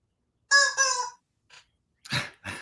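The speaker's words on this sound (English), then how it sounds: "you're going to get brown chicken to start clucking" A toy brown chicken from a dollar store makes a loud, close burst of harsh clucking and crowing squawks, then a short pause and a few more clucks.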